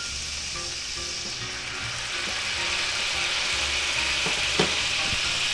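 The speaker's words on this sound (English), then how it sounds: "I put a little bit of red wine in there" Drinking-grade red wine hitting hot butter in a pan, giving a loud, continuous hiss and crackle that stays steady and close throughout.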